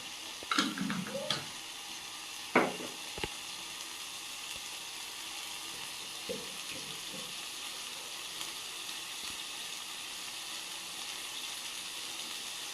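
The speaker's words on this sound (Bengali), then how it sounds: "মশলাটার মধ্যে হলুদ দিয়ে দিয়েছি, এবার একটু লবণ দিয়ে দেবো, দিয়ে মশলাটা ভালো করে কষিয়ে আর সবজিটা দিয়ে দেবো।" Spice paste with turmeric and salt sautéing in a pan, a faint steady sizzle with a few spatula clinks and scrapes early on, then a soft continuous hiss, quiet and unaccompanied by talk.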